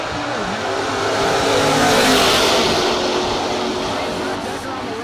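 Junior dragster race cars blast off the line in a semifinal at a no-box drag race, a loud continuous engine roar swelling then easing, with an announcer talking over it.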